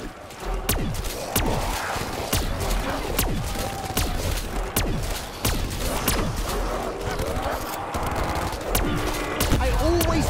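Rapid gunfire from Call of Duty: Black Ops 4 Zombies mode, dense bursts of shots and automatic fire running continuously and loudly over a busy game soundscape with faint voices mixed in.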